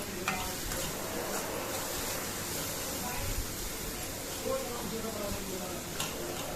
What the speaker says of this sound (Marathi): आपल्या खोबऱ्याचा गुळाचा सारण चांगलं परतून घ्यायचं